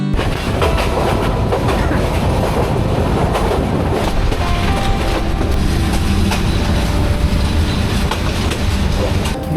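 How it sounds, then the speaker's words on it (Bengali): A Chattala Express passenger train pulls into Kumira railway station, its wheels rumbling and clattering loudly and steadily close by, with brief metallic squeals over the heavy continuous roar. "চট্টলা এক্সপ্রেস এখন প্রবেশ করলো কুমিরা রেলওয়ে স্টেশনে"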